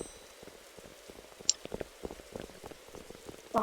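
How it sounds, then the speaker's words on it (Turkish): Scattered patter of acid rain in a Roblox survival game, rain-like drops and crackles, fairly faint, with a couple of sharper splashy hits standing out. "Asit yağıyor Furkan"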